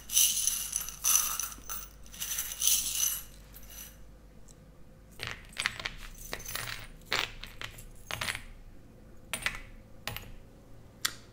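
Small metal divination charms cast by hand, clattering and jingling in several quick bursts of bright clinks, close and fairly quiet with gaps between throws.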